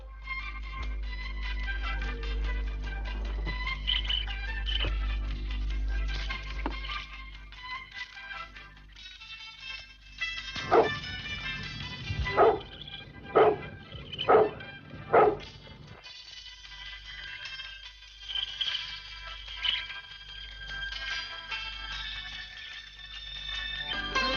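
Dogs bark at a large house. A short run of sharp, evenly spaced barks stands out midway through a long stretch of continuous background music.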